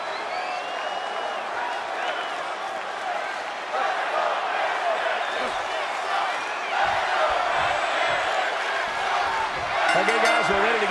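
A London wrestling arena crowd on its feet, cheering and roaring continuously and loudly throughout, with the noise swelling toward the end.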